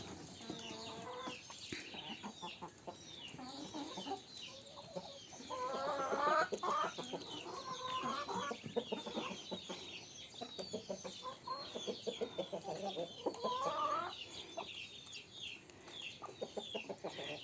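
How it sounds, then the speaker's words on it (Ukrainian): A steady stream of clucking from a flock of chickens and roosters, overlapping calls near and far, with occasional louder bursts of agitated clucking. "Ще один півень."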